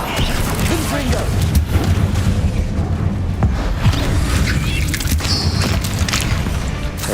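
Confringo fire spell blasting in Hogwarts Legacy combat, a dense run of booming impacts and crashes over a rumbling low background, with a voice talking in the middle of the fighting.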